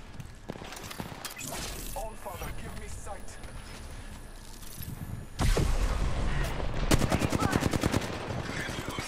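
Gunfire in Apex Legends arrives as a barrage: scattered shots under players talking, then a loud rapid machine-gun stream in the second half, with rhythmic bursts near the end.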